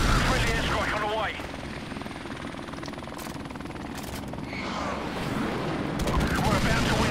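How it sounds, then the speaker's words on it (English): Enemy helicopter in the shooter game Modern Warfare Remastered, its rotor thrum droning steadily amid bursts of rapid gunfire and a chaotic battle mix, with a voice speaking over it. "Enemy helicopter inbound."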